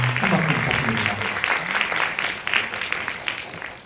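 An audience claps after a high-school economics club presentation, dense steady applause filling the room, with a voice briefly talking over it at the start.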